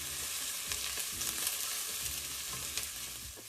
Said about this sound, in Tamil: நல்லா ப்ரௌன் ஆகிற வரைக்கும் வதக்கிக்கிறேன்